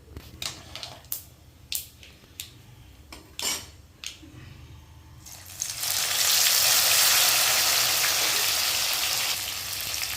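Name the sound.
mustard seeds sizzling in hot oil for citron pickle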